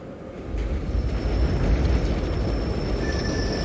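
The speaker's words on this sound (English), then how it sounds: "The actual subway is just beyond this wall." A subway train rumbles past on the far side of a wall, a loud, steady low roar with faint wheel squeal rising above it and no voices.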